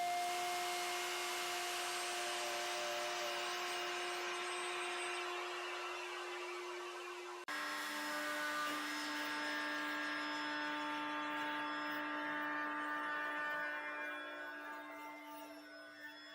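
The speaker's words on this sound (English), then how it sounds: "This is a piece of old growth Honduran mahogany. It's rough sawn to the line, ready to be routed to its final shape." A power router shapes a rough-sawn blank of old-growth Honduran mahogany for a guitar body, a sustained high whine close up that shifts pitch partway through as the cut changes, running throughout.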